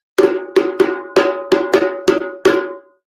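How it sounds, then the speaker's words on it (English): Eight sharp, ringing drum-like strikes in a quick uneven pattern, each with a short metallic decay, loud and close with no talking. "So I'm going to give the signal, and Martine and I will start"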